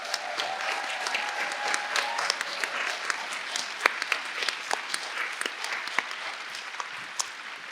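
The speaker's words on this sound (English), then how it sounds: "join me in giving a huge round of applause to Chicago DSA." Sustained applause from a convention audience honoring Chicago DSA, dense clapping with scattered sharper claps standing out, steady and fairly close throughout, with a faint whistle or voice briefly audible early on.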